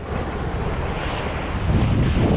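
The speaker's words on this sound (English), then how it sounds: "I'm now using the inbuilt mic with the wind blowing directly into the mic." Heavy wind blowing directly into a GoPro's built-in microphone at a windy spot, a constant loud rumbling roar that swells slightly toward the end, with no voices.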